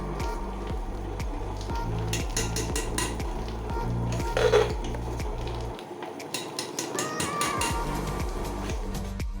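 Utensils clink and scrape against bowls in a steady rhythm while jalebi batter is made at home, with a short clatter partway through, then softer handling and tapping continue nearby.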